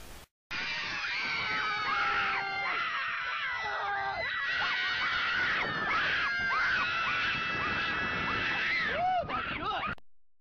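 Loud, sustained high-pitched screaming fills about ten seconds, with wavering shrieks, wails and gasping breaths that rise and fall almost without pause.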